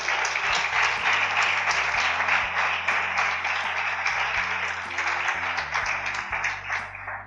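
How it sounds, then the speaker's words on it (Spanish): A church congregation applauds during a Spanish-language sermon, a steady, full wash of clapping over sustained low organ or keyboard chords. "Aplauda al rey"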